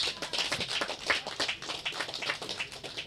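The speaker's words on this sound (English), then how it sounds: "I want us to give Charles a big round of applause" A small audience claps for Charles at a community Wi-Fi launch, a brief round of uneven, fairly close handclaps with audible individual slaps, no talking over it.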